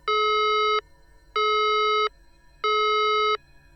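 A harsh electronic alert tone blares from a television during a national emergency broadcast, three loud identical buzzing beeps of under a second each, evenly spaced with short pauses between.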